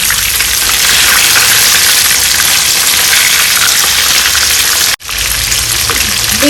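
Chicken pieces deep frying in hot oil for sweet and sour crispy chicken, a steady loud broadband sizzle with a brief gap near the end before the frying hiss resumes.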